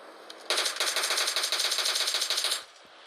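Firecrackers go off in a rapid crackling burst of pops that lasts about two seconds, sharp and fairly close, with quieter background before and after.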